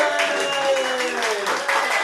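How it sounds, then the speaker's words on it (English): A live audience at a Halloween rap battle show applauds the final performer of the night, steady clapping and cheering with voices woven through it. "give it up. Give yourselves a round of applause"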